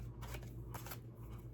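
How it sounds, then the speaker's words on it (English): Oracle cards being shuffled by hand, two quick papery riffling bursts close up against a low background hum. "let me just shuffle these some more"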